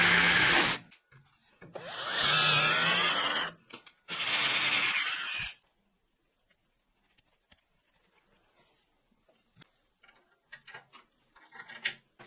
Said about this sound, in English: The complex assembly moves to the drill press. The bit cuts deep.